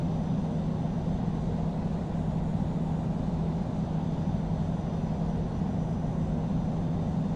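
Airliner engines roaring steadily during takeoff in the flight simulator Infinite Flight, a constant loud low rumble with no breaks and no voices.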